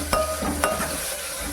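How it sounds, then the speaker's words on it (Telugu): Tomato masala frying in a pan for okra pulusu (bendakaya pulusu), with a steady sizzle and two sharp spoon scrapes as it is stirred, close and fairly loud. "రెండు నిమిషాల తర్వాత ఒకసారి ఇలా మొత్తాన్ని బాగా ఫ్రై చేసుకోవాలి"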